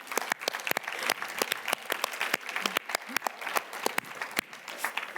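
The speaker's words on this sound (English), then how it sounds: "I would like to have for you an applause." Audience applause at a global forum of cities on urban food policy in Barcelona: dense, steady clapping from a large hall crowd, with sharp individual claps standing out throughout.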